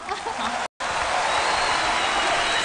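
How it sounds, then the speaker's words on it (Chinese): A studio audience at a Henan opera stage show breaks into sustained applause, a dense, even patter of clapping that fills the space after a brief break at the start. "我们掌声欢迎一下，好不好？"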